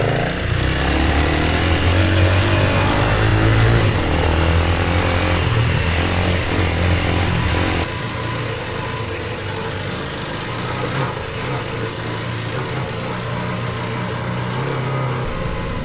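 A KTM 390 Enduro R single-cylinder motorcycle runs off-road with a steady, loud engine drone close to the rider. The pitch drops slightly partway through, as if the bike eases off, and no one speaks.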